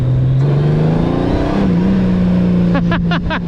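A Honda Goldwing touring motorcycle idles with a loud, steady engine hum close by, its pitch drifting slightly, then several quick throttle blips rise and fall near the end.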